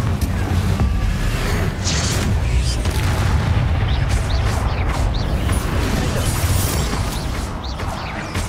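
A video game Confringo explosion spell goes off as a dense, continuous roar of booming and crashing debris with creaking mechanical rumbles, loud and sustained for several seconds.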